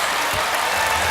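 Arena crowd at a G-League basketball game in Oracle Arena, Santa Cruz Warriors hosting OKC Blue, a steady wash of cheering and applause filling the space, broad and continuous with no single voice standing out.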